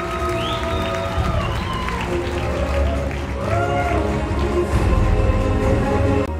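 Audience applause at the Miss Fashion 2019 award ceremony as a runner-up is announced, steady dense clapping from a large crowd throughout with a low murmur underneath.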